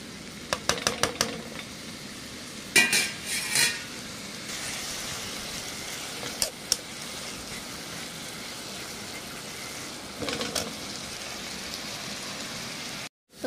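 Cabbage and green chillies cooking in a pan for veg momos give a soft, steady sizzle, broken by a few sharp clinks and stirring scrapes, with no talk.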